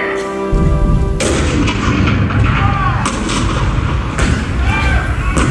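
Heavy Civil War-era cannon fire at Fort Sumter booms repeatedly, loud and continuous, with deep reverberating blasts rolling one into the next.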